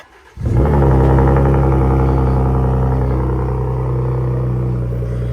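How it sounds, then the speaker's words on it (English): A Ford Raptor with an AWE aftermarket exhaust cold-starts close by: a short crank, then the engine catches with a loud rev and settles into a deep, steady, rumbling high idle that eases slightly over several seconds. "Here goes to a cold start."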